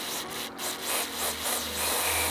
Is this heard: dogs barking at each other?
no